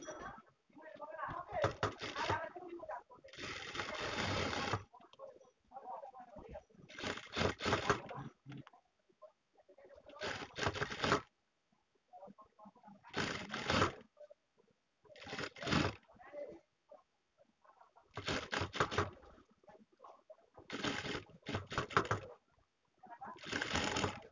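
A sewing machine stitches the front neckline of a long frock, running in repeated short bursts separated by quiet pauses, with a voice talking between some of the runs.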